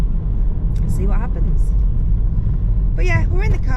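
Steady low engine rumble inside a moving car, constant and fairly loud throughout, with people talking over it.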